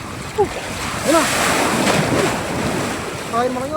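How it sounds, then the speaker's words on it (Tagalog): Ocean waves wash steadily on a beach under strong wind noise, with a few brief voices of fishermen and whistle-like tones drifting over the surf. "May alon."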